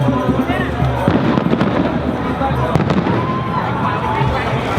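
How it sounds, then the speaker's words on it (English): Fireworks bursting at the Vancouver Celebration of Light finale, a rapid series of sharp cracks and booms over a busy crowd, with people talking nearby throughout. "That is the sound of fireworks."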